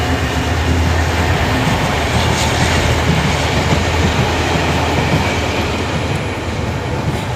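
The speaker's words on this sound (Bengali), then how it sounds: "এসেই ট্রেন দেখতেছে" A train rumbles past at close range, loud and steady, with rolling wheel noise and clatter that eases slightly toward the end.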